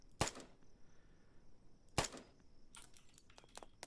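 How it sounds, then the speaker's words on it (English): AK rifle fire in the Night of the Dead video game: two sharp, separate single shots about two seconds apart, each with a short tail, then a quick run of clicks and rattles. "the AK's, I think, got more kick to it than what the M16 had"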